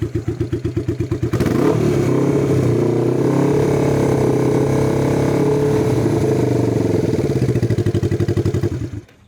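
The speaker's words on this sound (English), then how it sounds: "It definitely sounded like it was laboring to start there when you came back." Cafe-style motorcycle project with an electrical fault, the starter cranking in slow laboring pulses before the engine catches and runs at a rough steady idle for several seconds, close and loud, then cuts off.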